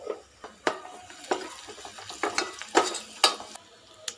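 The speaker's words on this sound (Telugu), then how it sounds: "కొంచెం పసుపుని కూడా యాడ్ చేసుకొని ఈ ఆయిల్లో బాగా ఫ్రై చేసుకుందాం" Ginger garlic paste and turmeric fry in hot oil for an egg curry, a faint crackle punctuated by irregular clinks and scrapes of a stirring spoon against the pan.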